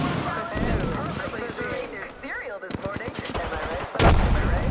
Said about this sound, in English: Oh, I'm getting shot up top.